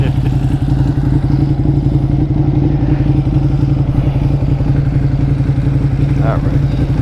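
Engine of a 2020 Ducati Panigale V2 on a first road ride, a steady loud mid-pitched drone with constant rumble held throughout, wind mixed in, with no talk heard.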